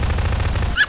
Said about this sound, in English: All I hear is a lot of shooting.